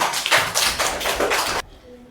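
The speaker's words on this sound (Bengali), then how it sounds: "আমরা একটা হাততালি দেই" A classroom of students claps together in a burst of loud, close applause with uneven pulses. It stops abruptly after about a second and a half.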